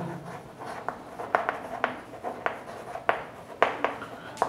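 Pen or chalk writing strokes during a physics lesson, a series of short, fairly soft scratchy taps and rubs in an irregular rhythm, close and without speech.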